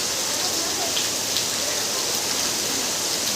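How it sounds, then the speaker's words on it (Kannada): Heavy rain pours down outside a home in the evening, making a dense, even hiss that stays steady throughout. "ಸೊ ಔಟ್ಸೈಡ್ ಮಳೆ ಫುಲ್ ಜೋರಾಗಿ ಬರ್ತಾ ಇದೆ."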